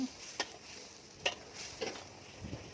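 Basil chicken with glass noodles being stir-fried in a pan: a faint low sizzle under a few sharp spatula scrapes and taps spaced about a second apart.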